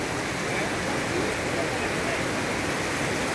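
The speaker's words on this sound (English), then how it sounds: "See the water rushing inside" Water rushing at Parashuram Kund in the mountains of Arunachal Pradesh: a steady, broad roar of fast-flowing water that holds constant and fairly loud throughout, with no breaks.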